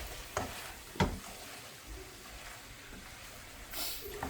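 Prawns with a splash of liquid seasoning are stirred in a frying pan: a faint, steady sizzle with a few soft scraping stirs and clinks, quiet and close.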